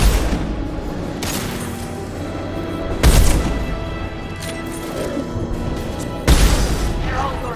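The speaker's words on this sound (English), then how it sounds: "Watch for heavy fire." Heavy gunfire rattles through a Mass Effect 2 firefight, with three loud booming bursts over a steady roar of continuous shots and combat noise.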